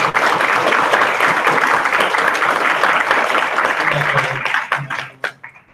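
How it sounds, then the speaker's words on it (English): An audience at a school board of education meeting gives a big round of applause, loud dense clapping that holds steady, then thins out and fades near the end as a voice begins. "give them a huge round of applause"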